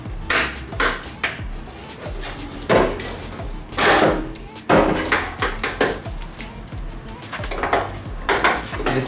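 Metallic clanks, pings and knocks ring out repeatedly and irregularly as a crushed fender is worked off a Mazda Miata, loud and close throughout.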